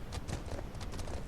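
Horse hooves clip-clop steadily in a survival game while riding on horseback, a continuous close rhythm of soft repeated thuds with no talking over it.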